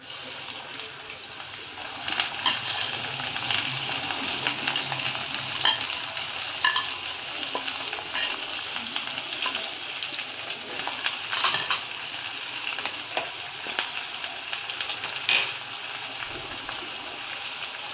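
Chopped vegetables including peas and onion frying in hot oil, a steady bright sizzle running throughout with occasional stirring scrapes and pops, close and continuous.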